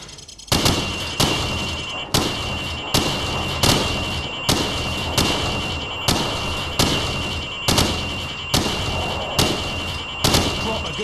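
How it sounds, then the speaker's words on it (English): Rifle fire at pop-up targets through wood in Call of Duty 4: Modern Warfare: about a dozen sharp, loud single shots at a steady, evenly spaced pace, with no talking. "I want you to shoot the targets through the wood."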